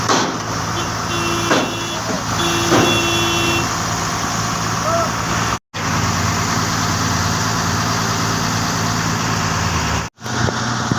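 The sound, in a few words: JCB excavator and truck working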